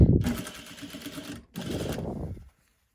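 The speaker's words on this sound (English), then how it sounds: "I'm gonna sew as close to the wire as I can without hitting the wire" Sewing machine stitching a fabric face mask close to a nose wire, a steady rapid mechanical run that stops briefly and starts again, with a low thump at the start.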